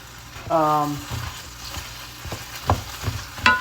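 Ground turkey and pasta get stirred in a pan, with scraping clinks and sizzling frying underneath, plus a brief tonal squeak near the start.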